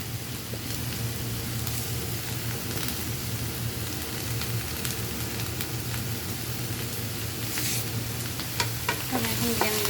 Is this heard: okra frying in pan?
yes